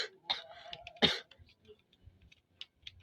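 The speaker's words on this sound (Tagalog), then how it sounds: "inuubo pa rin ako" A few harsh, throaty coughs close by, two strong bursts within the first second, followed by quieter rustling and faint breaths.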